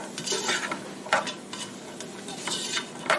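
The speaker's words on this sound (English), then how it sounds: "stir this all up in here. I like to mix this together" Onions and garlic stirred in a pot for chili, a spoon scraping and sloshing through sizzling contents with a few sharper clinks against the pot, close and steady.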